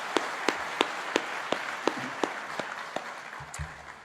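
Scattered audience claps at an engineering faculty graduation ceremony, sharp individual hand claps spaced about every third of a second over a soft crowd murmur, with a brief low thump near the end.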